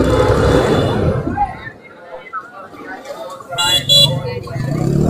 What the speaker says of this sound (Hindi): सिटी में यही दिक्कत है यार, ट्रैफिक बहुत होता है।